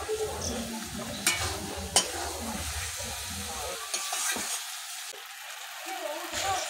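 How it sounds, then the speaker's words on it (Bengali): Chicken masala frying in a pan is stirred with a utensil, giving scraping strokes over a steady sizzle that eases and thins toward the end, with some faint talking. "তো একটু ভালো করে নেড়ে নিচ্ছি"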